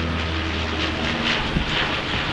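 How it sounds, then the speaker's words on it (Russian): An airplane passes low overhead above a Red Sea reef, its engine drone a loud, steady broadband roar that fills the whole moment with no speech. "О, самолет."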